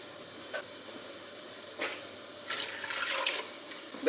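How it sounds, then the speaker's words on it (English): A kitchen tap briefly sputters, then runs water into a pot while quince purée is being made. Quiet splashes give way to a fuller stream of about a second near the end. "I'm gonna have to put some more water in there."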